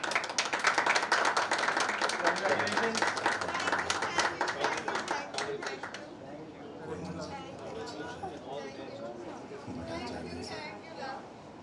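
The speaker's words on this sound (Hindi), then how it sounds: "चलो तालियां।" An audience at the launch of a TV actress's debut music video claps loudly and steadily for about six seconds; the applause then fades into chatter and scattered voices close by.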